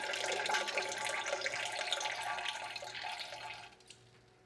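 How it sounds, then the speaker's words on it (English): Fresh apple cider pours steadily from a pot into a glass jar, a continuous splashing, gurgling stream close by that gradually thins and quiets toward the end. "pouring off the juice without disturbing a lot of that sediment"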